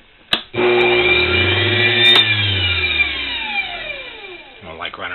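A treadmill motor being tested at high speed starts with a click and a sudden loud whine, holds a steady tone, then drops in pitch as it winds down near the end.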